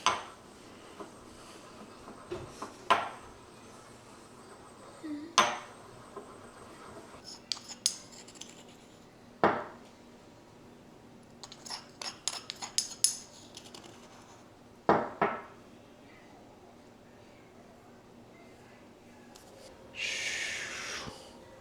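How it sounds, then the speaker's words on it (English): Chinese peppercorns and salt are crushed with a pestle in a mortar, producing sharp, irregular knocks and gritty scraping clicks in scattered bursts against a quiet background, ending in a short rougher grind. "Normally, the baking soda does not need a pestle and mortar, but we had to do it today"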